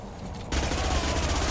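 SMG gunfire in the Mass Effect 2 video game, a sudden burst of rapid continuous shots kicking in after a short quiet lead-in and holding loud and close to the end.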